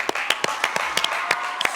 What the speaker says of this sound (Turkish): stüdyomuzdan kocaman bir moral alkışı istiyorum.